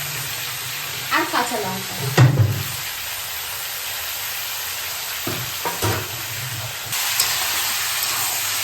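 Chicken with Kashmiri chilli powder and tomato fries with a steady sizzle and hiss, broken by a few scraping stirs of the pan. A voice speaks briefly near the start over the frying.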